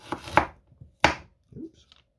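Knife slicing food on a cutting board while making slow cooker Mongolian beef stew: three sharp close chops, two in quick succession then one more, with softer knocks between.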